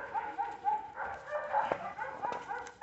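Pomeranian puppies in snow giving short high yips and whimpering barks in quick succession, close and fairly soft.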